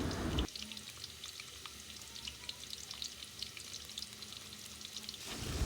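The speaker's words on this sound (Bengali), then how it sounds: "তেল গরম হয়ে আসাতে পেঁয়াজ কুচিগুলো দিয়ে দিলাম" Chopped onions dropped into hot oil in a cooking pot for a pumpkin and prawn curry, a dense, steady hiss and crackle of frying that holds evenly, close but fairly quiet, with no voices.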